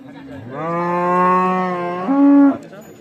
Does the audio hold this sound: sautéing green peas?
no